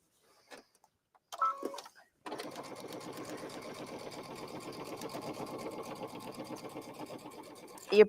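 Domestic sewing machine stitching the hem of a jacket muslin, running in a steady fast mechanical rhythm for several seconds after a brief start-and-stop, close and fairly loud, with no talk over it.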